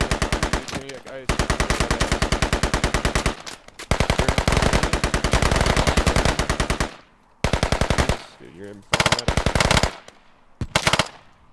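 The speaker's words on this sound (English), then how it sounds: "I love the sound of this gun." Bursts of rapid automatic gunfire from a machine gun in the military shooter Squad, loud and close, in long sustained strings with short pauses between them.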